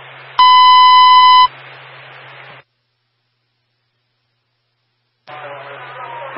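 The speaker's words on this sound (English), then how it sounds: "a third alarm has been transmitted for box 3162" A fire department dispatch alarm tone sounds as a loud, steady electronic tone for about a second over radio static, followed by static, a silent gap and more radio hiss with a voice.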